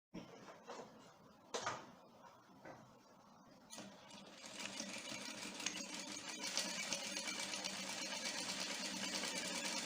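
An industrial sewing machine with speed control runs slowly. A few quiet clicks and knocks come first, then a soft, steady motor whir and stitching hum takes over, all faint and nearby with no talking.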